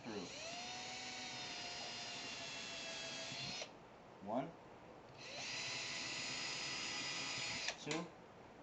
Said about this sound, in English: we're going to drill directly downward, right through.